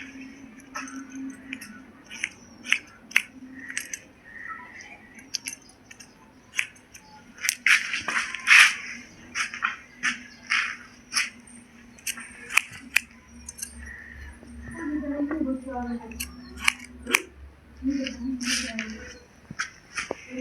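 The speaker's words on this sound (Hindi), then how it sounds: "कैंची को चलाना" Scissors snipping hair during a home one-side slope haircut, many quick close metallic clicks in irregular bursts with a faint low hum underneath.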